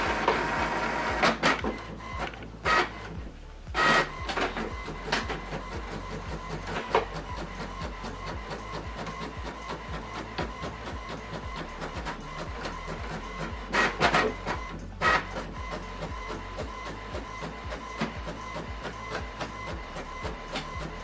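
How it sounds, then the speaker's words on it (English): An HP printer prints a document from a laptop, a continuous mechanical whir and rattle with a steady low hum and a few louder clunks and clicks from the feed, close by and without talk. "Now this document is printing."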